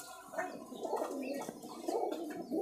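Highflyer Giribaz pigeons coo softly in a Rajshahi loft, low throaty murmuring calls overlapping in a brief, quiet stretch without talk.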